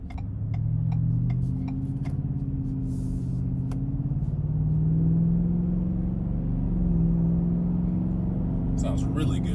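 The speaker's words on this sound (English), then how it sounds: "get on the highway and show you how quickly we can accelerate" A 2021 Roush F-150 pickup accelerates onto a highway with a deep engine drone that climbs and falls in pitch through the gears, heard from inside the cab with a steady rumble and light ticking. A person talks over it.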